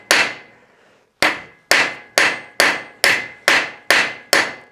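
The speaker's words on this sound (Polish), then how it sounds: "Tu jest kowadełko na imadle. Musimy ją leciutko opukać." Sharp metallic hammer taps ringing out, one strike, a pause, then seven evenly spaced blows, each with a short bright decay, close and loud, as a small hammer lightly taps a rusted bolt on a small anvil in a vise.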